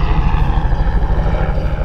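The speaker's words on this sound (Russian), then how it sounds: "Белый вертолет." A white helicopter passes overhead, its steady engine drone and rapid rotor chop loud and close, continuous and alone with no talk.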